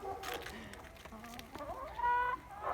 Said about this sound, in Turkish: Aferin benim tavuğuma. Gıdakla gıdakla tabii ya.